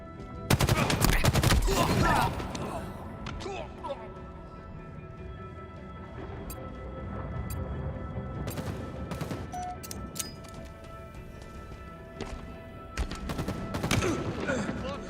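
Rapid bursts of gunfire from a Halo video game, loud and sharp at the start and returning in clusters near the end, with a voice talking over the shooting.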